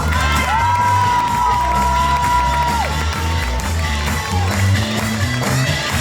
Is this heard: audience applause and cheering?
yes